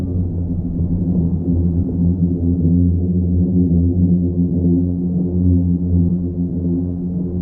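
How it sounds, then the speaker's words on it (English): A deep, droning hum with layered low tones from singing sand dunes moans steadily and evenly throughout, with no other sounds. "The sound you're hearing is actually coming from within the dunes themselves."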